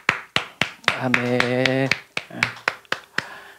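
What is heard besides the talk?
church congregation clapping in thanks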